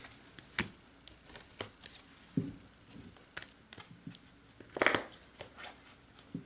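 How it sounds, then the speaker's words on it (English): Tarot-style energy cards being shuffled and pulled from a deck, producing soft scattered riffles and flicks with a sharper burst of card noise near the end, fairly quiet and close with no talking. "So let's go ahead and pull some energy cards."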